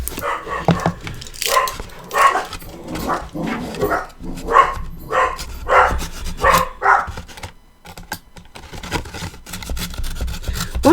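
Repeated barking from a dog indoors during a box-making craft session, a steady series of moderately loud barks mixed with rubbing and scraping sounds nearby.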